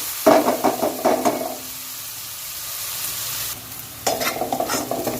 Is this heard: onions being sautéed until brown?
yes